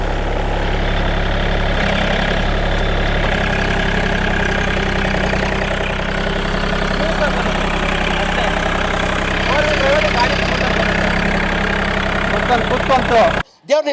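A John Deere 3036 EN compact tractor engine idles close and loud, a steady, unbroken low rumble with voices talking over it.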